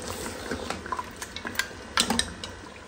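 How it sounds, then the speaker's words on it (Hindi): Mutton paya masala frying in oil in a pot, with a soft steady sizzle under repeated clinks and scrapes of a spoon stirring, close and moderately quiet. "अब हम इसको अच्छी तरह से भून लेंगे।"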